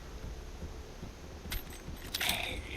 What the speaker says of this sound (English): There's some keys.